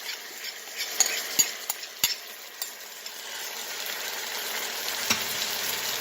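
Sweet and sour sauce poured over chicken in a hot pan, giving a steady soft sizzle under scattered light clinks and scrapes of a utensil against the pan.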